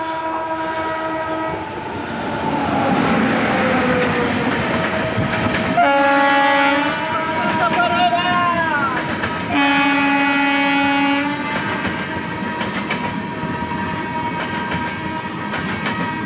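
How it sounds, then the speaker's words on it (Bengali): Amrit Bharat (Vande Sadharan) Express on its Malda Town to SMVT Bengaluru run pulls in with loud, long horn blasts over continuous wheel rumble and rail clatter, nearby and sustained without talk. "বন্দে সাধারণ বা অমৃত ভারত এক্সপ্রেস আসছে মালদা টাউন থেকে SMVT বেঙ্গালুরু পর্যন্ত।"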